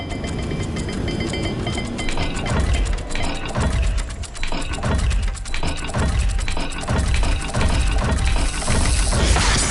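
A stone puzzle dial in a Hogwarts Legacy dungeon grinds and clicks as it turns, a steady run of ratcheting mechanical ticks with heavier low thumps, loud and close with no voices.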